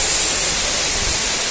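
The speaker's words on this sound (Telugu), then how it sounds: "Baahubali water falls." Talakona waterfall near Tirupati roaring steadily and close, a dense unbroken rush of falling water with no voices.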